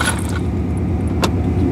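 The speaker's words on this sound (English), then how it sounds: "And the truck runs." A truck engine idles steadily in a low, even rumble close by, with a light jangle of keys near the start and a brief click partway through.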